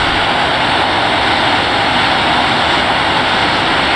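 An F-15 fighter's jet engine runs at full power during touch-and-go landing practice at Monterey, a loud, steady broadband roar that holds without letup and with no voices over it.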